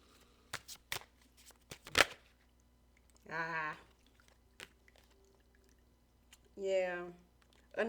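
Tarot cards being shuffled close up in a quiet room, with several crisp riffles and taps, then two short bursts of a nearby voice talking between them.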